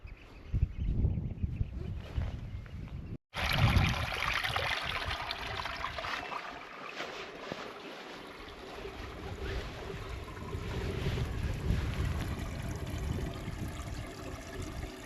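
Water rushes steadily outdoors in the Faroe Islands, a broad continuous wash mixed with wind buffeting, loud and close throughout with a brief dropout early on.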